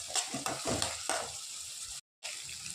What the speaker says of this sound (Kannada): ಹಾಗೆ ಹಸಿಮೆಣಸಿನ್ಕಾಯಿ ಹಾಕಿ ಫ್ರೈ ಮಾಡ್ಕೊಳ್ತೀನಿ.